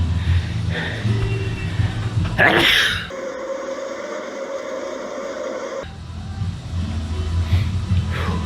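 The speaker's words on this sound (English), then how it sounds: "I'm gonna sneeze." A single sharp sneeze bursts out close by, followed by a sudden cut to a steady mechanical hum with a high whine, then low background rumble returns.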